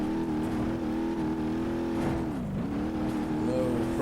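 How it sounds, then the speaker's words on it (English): A diesel-powered, straight-axle 1-ton mud truck in BeamNG.drive revs with a steady loud engine drone, the pitch dipping briefly then climbing again, heard alone without talk. "Diesel powered, straight axle, 1-ton mud truck."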